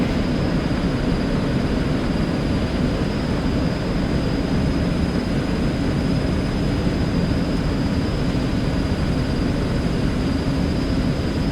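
Twin jet engines of an Eclipse 550 in X-Plane 11 held at takeoff power, a steady, loud, dense roar with a thin high whine running unbroken throughout, no voices.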